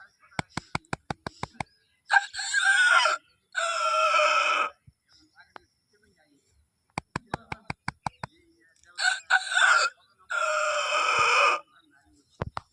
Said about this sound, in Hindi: ये मुर्गी का आवाज़ है